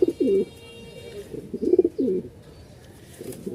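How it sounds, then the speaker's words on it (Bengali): Potter pigeons, a male and female pair, cooing in short repeated low bursts, close and clear over a quiet background. "চেষ্টা করি একটু আরেকটু ডাক দেওয়ানোর।"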